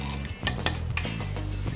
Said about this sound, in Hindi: एक बार चला देंगे।